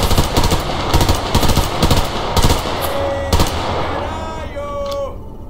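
Bursts of PPSh submachine gun fire from the Survarium shooter, rapid rattling volleys repeating in short bursts with a few gaps, loud and close, with game sounds underneath.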